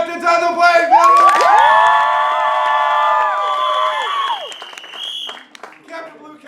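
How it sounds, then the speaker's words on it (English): A high school comedy improv audience cheers, whoops and applauds loudly in a sustained roar, with excited shouting voices on top that gradually fade as the crowd settles. "Keep that applause going"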